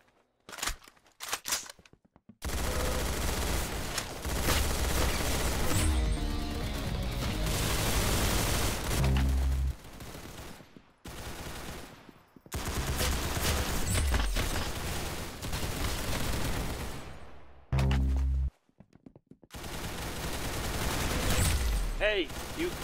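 Gunfire in the online shooter game Arsenal, bursts of rapid shots in several long volleys separated by brief silences, with a voice speaking between them.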